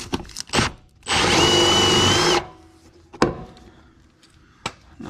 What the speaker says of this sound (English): Luckily, it's made of aluminum, so it's not hard to drill.